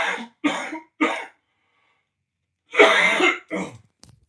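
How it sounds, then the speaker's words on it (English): A person coughing hard in bursts: three quick coughs, a pause, then a heavier rasping cough followed by a shorter one and a faint trailing throat sound, close and loud with no talk. "I'm like coughing like crazy"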